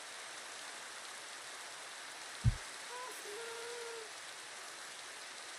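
Rain patters in the End dimension of a video game, a constant, even hiss broken by one sudden low thud and a faint wavering tone.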